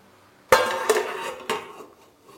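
Metal lid set down onto a pan of spring onion curry with potato and cauliflower, a sharp clatter followed by two lighter clinks as it settles, close and alone.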